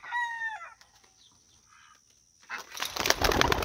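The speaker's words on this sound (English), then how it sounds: "you get whacked in the face by a pigeon when they fly" Pigeons taking off and flapping their wings in flight, a loud burst of wingbeats near the end after a rooster crow and quieter bird calls, kept in a backyard bird pen with ducks.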